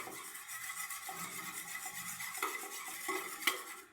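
Eggs with a pinch of salt whisked by hand with a steel beater in a bowl for a wafer biscuit pudding, a steady fast scraping and rubbing rhythm with light metallic clinks, close and fairly quiet.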